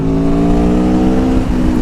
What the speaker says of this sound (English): Just listen to that engine, the grunt,